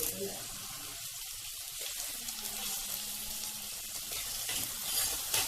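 Onions, green chillies, ginger, kudampuli, tomato and curry leaves sauté in a pan for a Kerala-style coconut curry, a steady close sizzle with occasional stirring scrapes.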